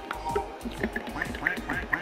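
A duck in a Roblox video game quacks in a quick series of short, bright calls, mixed with people talking over the game sounds.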